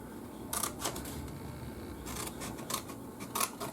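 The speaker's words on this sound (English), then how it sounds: "Okay, now I'm going to get my scissors and do some cutting." Scissors snip through a paper treat box in several quick, crisp cuts arriving in short bursts, close and fairly quiet against a low background hum.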